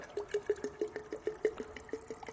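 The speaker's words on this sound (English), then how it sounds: "go ahead and fill the rest of the glass jar full" Water, mineral or filtered, is poured into a glass jar, making a quick run of close, bright glugging plinks at an irregular rhythm.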